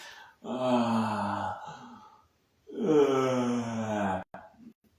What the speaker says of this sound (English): I was trying to do a fake yawn.